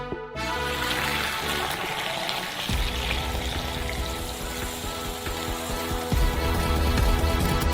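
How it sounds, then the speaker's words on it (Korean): Freshly boiled coffee pours steadily from a stovetop pot into a large cup, a continuous close-up liquid splash and trickle running the whole time with no talking. "커피는 이미 끓었으므로 스토브에서 꺼내 큰 컵에 부어주세요."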